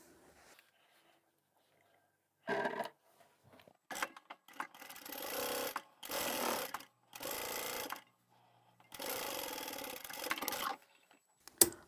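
A sewing machine stitches through two layers of scrap fabric in several short bursts, pausing between runs, with small handling clicks in the gaps; moderately close and fairly quiet.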